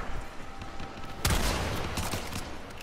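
Warframe primary weapon firing in-game, a sudden loud broadband burst of gunfire midway that rings out with a dense crackling tail over steady game background noise.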